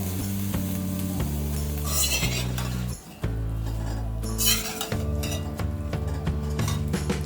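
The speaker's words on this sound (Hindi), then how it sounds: "अब हम इसमें डालेंगे ये बॉइल्ड और पील्ड आलू।" Boiled, peeled baby potatoes fry with spices in a pan, a soft sizzle broken by clinks of a spoon against metal, all under a steady low tonal backdrop that briefly drops out partway.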